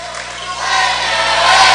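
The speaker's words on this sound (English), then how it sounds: "Pretty good crowd on hand here tonight." Crowd noise filling a high school basketball gym during the Estill County vs Madison Southern game, a steady broad murmur of voices that swells slightly toward the end.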